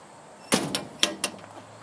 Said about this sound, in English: Looks like we've got a nice pull-out drawer right here available for tools.